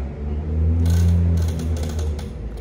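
A bicycle makes an odd ratcheting mechanical noise, a brief clicking rattle over a low steady hum, fairly faint on a city street.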